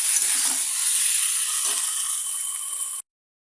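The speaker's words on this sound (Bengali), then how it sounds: "ভাজা আলুটাকে দিয়ে চিকেনের সঙ্গে এটা ভালোভাবে লো টু মিডিয়াম ফ্লেমে আরও 4 থেকে 5 মিনিট কষিয়ে নিতে হবে।" Chicken with fried potatoes sizzles in a pan over a low to medium flame, giving a steady, close hiss with faint stirring rattles before cutting off abruptly.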